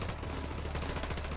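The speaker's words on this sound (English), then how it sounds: "I just shot that way to distract him so he can be shot by someone else." Gunfire in the tactical shooter Ghost Recon Wildlands comes as a quick string of soft, somewhat distant shots over a constant low background rumble.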